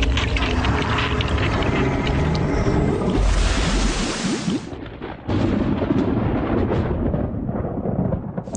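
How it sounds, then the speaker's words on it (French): Deep, heavy rumbling thunder rolls loudly across open sea from an approaching storm, sustained and booming with a brief dip before swelling again. "Un orage se prépare à l'horizon."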